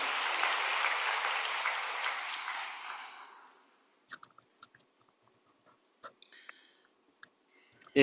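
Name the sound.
congregation applause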